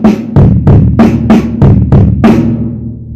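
Drum kit plays a short common fill, about eight evenly spaced loud hits close up, with the final stroke ringing out and fading alone.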